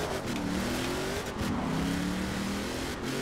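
A car engine in Forza Horizon 4 revs hard and continuously, its pitch climbing and resetting as it shifts, loud and close with road roar and no talking.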